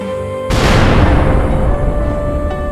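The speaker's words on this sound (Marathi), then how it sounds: "अचानक एक दिवस बॉयलरचा स्फोट होतो" A sudden loud blast of a boiler exploding at a sugar mill in Kolhapur, followed by a dense, rumbling roar that lingers and slowly fades.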